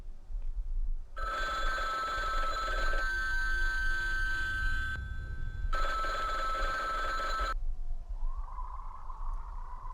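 A telephone rings in a cheesy horror video game, two long electronic ringing bursts with a pause between them, followed by a faint, eerie low tone.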